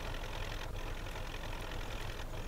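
A tractor engine idles steadily in Farming Simulator 17, a dense continuous mechanical drone with a deep low rumble that holds constant throughout, with no talking.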